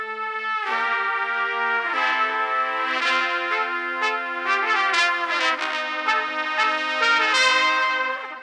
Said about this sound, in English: Here are the 8 tracks of trumpet to kind of simulate a big trumpet section coming into the studio